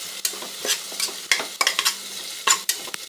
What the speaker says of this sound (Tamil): ஆட் பண்ணி நல்லா வதக்கிட்டுக்கலாம்